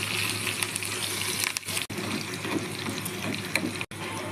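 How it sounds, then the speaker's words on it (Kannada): Water is poured into a hot pan of tempering with mustard seeds, cumin, asafoetida, curry leaves, ginger and green chilli for khaman dhokla, making a close, steady gushing splash. "1/4 ಕಪ್ ನೀರು ಹಾಕ್ಕೊಳ್ಳೋಣ."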